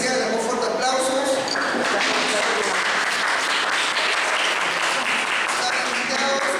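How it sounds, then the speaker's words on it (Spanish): An audience at a political science workshop talk applauds loudly and continuously, a dense wall of clapping that holds steady throughout with some voices mixed in. "le damos fuertes aplausos"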